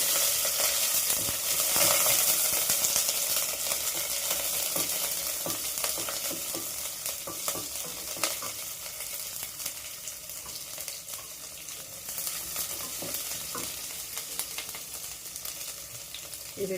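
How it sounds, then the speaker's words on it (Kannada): Onion and curry leaves frying in a tempering of popped mustard seeds, a steady hissing sizzle with occasional stirring scrapes, close and fairly soft, slowly settling, no talk. "ಈರುಳ್ಳಿ ಒಗ್ಗರಣೆಗೆ ಹಾಕ್ತೀನಿ"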